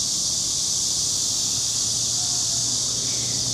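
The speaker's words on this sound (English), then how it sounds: "Can you hear the cicadas?" Cicadas in Seoul summer drone as a loud, continuous high-pitched buzz that holds steady throughout, with a faint low hum underneath.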